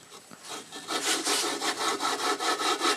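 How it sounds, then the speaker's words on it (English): A valve turned back and forth by hand against its seat with gritty grinding compound makes a steady, close scraping rub that swells and fades in a regular rhythm. "I keep turning this thing back and forth, allowing this valve to seat in and grind its own way into its seat"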